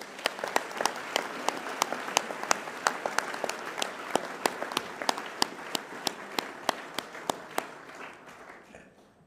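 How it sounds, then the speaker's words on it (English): Audience at a high school prize giving claps for student award recipients, a steady patter of distinct handclaps that holds for several seconds and then thins and fades out at the end. "A round of applause for those students."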